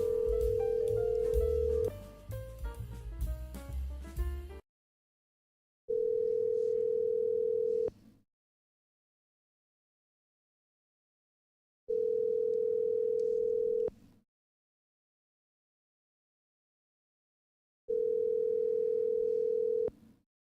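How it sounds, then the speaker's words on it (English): A telephone's ringback tone on an outgoing call: three long, steady electronic rings, each about two seconds long and separated by roughly four seconds of silence, following a short burst of music at the start. "So we're calling Stashu Vilgutsky right now"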